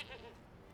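A goat card in the digital card game Magic: The Gathering Arena lets out one short, faint bleat with a wavering pitch that fades quickly.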